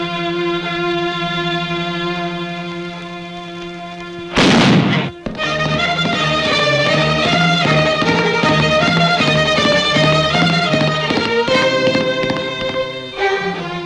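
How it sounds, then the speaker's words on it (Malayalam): A gunshot fired in a duel in an old Malayalam film cracks out as one loud, sharp blast partway through, set between stretches of sustained orchestral music. "ഒന്നാം വെടി വച്ചോളോ"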